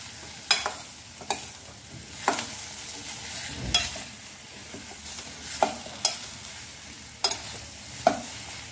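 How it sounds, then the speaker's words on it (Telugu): Bottle gourd pieces stirred in a frying pan for a Telugu sorakaya dish, the utensil scraping in a string of sharp, close knocks over a low, steady background sizzle, with no talking. "సొరకాయ ముక్కలు వేసుకొని ఇట్లా ఒకసారి కలుపుకొని"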